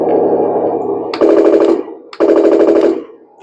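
Machine gun sound effect from a Henglong M26 Pershing RC tank's speaker: two loud rapid-fire bursts of electronic gunfire, each about half a second to a second long, separated by a short gap.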